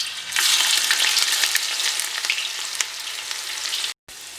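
Chopped onions hit hot oil for a mutton curry, bursting into a loud crackling sizzle that settles into a steady fry with small pops, then drops out briefly near the end before resuming.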